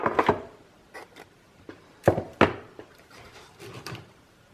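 A drawer holding laces and trims is opened, giving a string of close wooden thunks and sliding knocks in irregular bursts, with quieter rustling between them.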